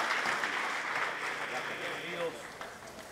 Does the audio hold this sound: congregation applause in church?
yes